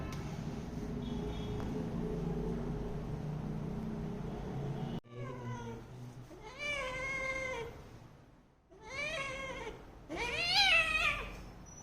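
A sick cat meows three times in drawn-out, rising cries after a stretch of low background rumble, close and fairly clear.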